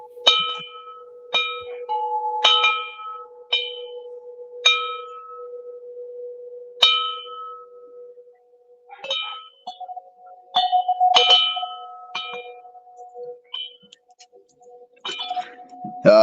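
Ten bell strikes tolled in tribute after a boxing match, each a bright ringing clang with a sustained tone, evenly spaced about a second apart and standing alone without talk.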